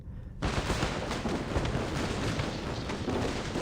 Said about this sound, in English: Gunfire still rattles.